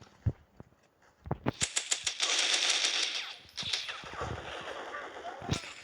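Rapid bursts and single cracks of gunfire from a shooting video game, loud and close, with dense overlapping volleys and steady game noise between the shots.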